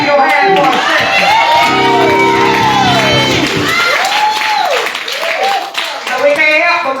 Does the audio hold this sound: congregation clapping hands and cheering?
yes